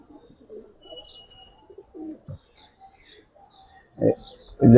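Giribaz and coloured fancy pigeons coo softly with low throaty calls, a few faint chirps between, and louder coos near the end.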